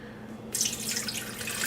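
After a short quiet moment, liquid splashes steadily into a measuring cup beside a Blendtec blender, a close, continuous hissing pour.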